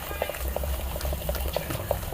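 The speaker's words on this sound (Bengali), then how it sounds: "আগে আমরা ফেটে নিচ্ছি ভালো করে" A mixture whisked briskly in a bowl for a sandwich, quick regular clicking and tapping strokes with a wet churning undertone, close and steady for a couple of seconds.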